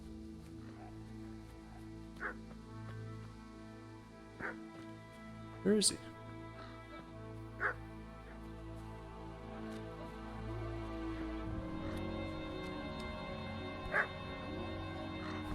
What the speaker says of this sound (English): Why do I keep hearing a dog?